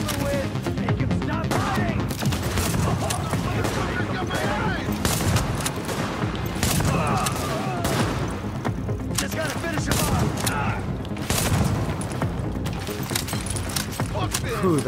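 Sustained machine gun fire in The Division at a field hospital, rapid bursts and booming shots crackling continuously through the stretch, with someone talking over parts of it.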